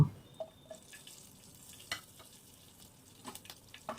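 Dry chili, a bay leaf and black cumin tempering in hot oil give a quiet, steady sizzle with a few soft stirring taps, faint and close, with no voices.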